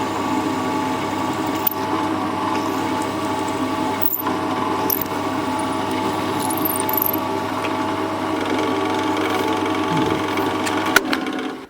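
A steady mechanical hum and whir fills the scene while a thread is tapped into a 3D printer part, working in and backing out. Faint clicks sit over the drone, and it stays constant and close throughout.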